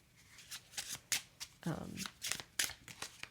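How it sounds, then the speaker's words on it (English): Hanafuda playing cards from a themed deck being dealt out into a nine-card spread, giving a series of close, crisp card snaps and slides with a short shuffling rustle in the middle, while a person talks quietly throughout. "I'll just sort of like show you what a 9-card box spread would look like with this deck."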